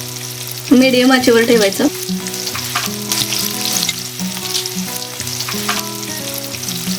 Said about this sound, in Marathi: सर्व कोळंबी आपण एक एक करून फ्राय करायला ठेवूयात.